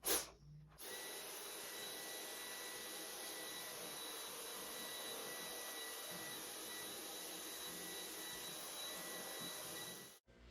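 A vacuum cleaner drones steadily over basement carpet, a constant loud whine with a faint tonal hum that holds for about ten seconds before cutting off abruptly, with no one talking.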